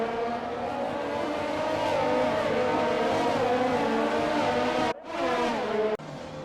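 Engine of an F1 race car in the F1 2020 video game at the Canadian Grand Prix in Montréal, droning loudly at full speed before cutting out abruptly, then briefly resuming and cutting again; no talking.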